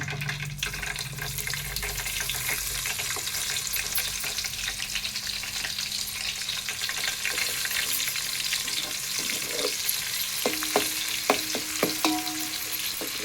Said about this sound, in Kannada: ಇವಾಗ ನಾನು ಈ ಈರುಳ್ಳಿನ ಫ್ರೈ ಮಾಡ್ಕೊಳ್ತೀನಿ ಸ್ವಲ್ಪ